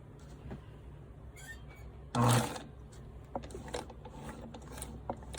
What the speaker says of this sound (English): I want to stitch up to that point.